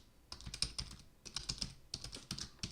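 Someone types a password on a computer keyboard, making three quick clusters of soft, close key clicks with brief gaps between them.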